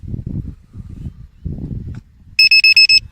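Someone talks at length, then a battery voltage checker gives four short, loud electronic beeps in quick even succession at the end.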